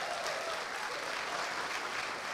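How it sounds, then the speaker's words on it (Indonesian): Crowd at an Indonesian stand-up comedy show gives a steady round of applause, a fairly quiet, dense and even clapping texture sustained throughout with no voices. "Tepuk tangan dulu dong."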